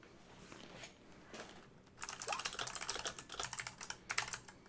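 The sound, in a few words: someone typing on a computer keyboard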